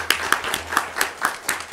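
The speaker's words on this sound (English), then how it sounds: "Can we clap it up for our panel and our panel?" A small audience at an academic symposium claps for a panel, with a short, sparse run of individual claps at a steady rhythm, close and moderately loud.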